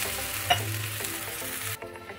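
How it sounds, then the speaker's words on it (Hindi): A glass of water poured into hot, sizzling fried masala for a mutton kofta curry: a steady loud sizzle with a sharp splash burst near the start, then the hiss abruptly drops and thins out toward the end. "हम इसमें डालेंगे एक ग्लास वाटर"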